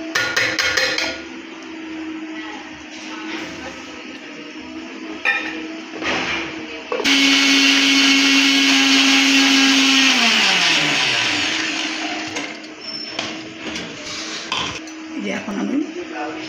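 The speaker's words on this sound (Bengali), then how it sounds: "যে আমি পেঁয়াজগুলো ভেজে নিয়েছি কুচি করে, এখন আমি মিক্সিতে পেস্ট করে নিই।" A mixer grinder grinding fried onions into paste, starting with clinks of jar and lid, then a loud steady whine that winds down before more handling clatter.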